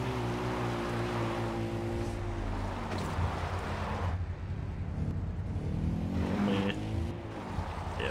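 Steady engine drone of a vehicle cruising on auto-drive in Far Cry 4, a continuous loud hum with shifting pitch as the engine revs rise and fall, alone without talk.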